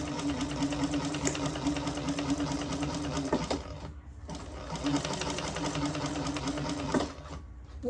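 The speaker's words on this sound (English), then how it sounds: "I'm sewing around the wrong line" Sewing machine stitching a Monica carry-all bag, running steadily and close for most of the stretch with a brief pause partway through.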